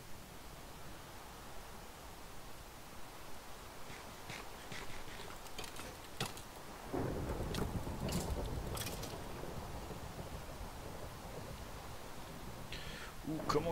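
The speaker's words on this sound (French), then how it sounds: "enfin il y a de l'orage" A thunderstorm in the Minecraft video game: a steady wash of rain hiss throughout, with a louder low rumble of thunder swelling partway through and lingering to the end.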